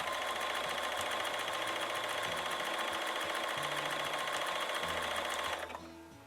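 A Bernina sewing machine runs steadily, stitching quilting stitches in a fast, even mechanical rhythm with a constant whirring hum, loud and close, before slowing and stopping near the end.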